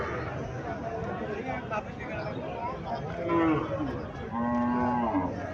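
A dairy cow moos twice, a long low call followed by another, with people chattering in the background throughout at a cattle market.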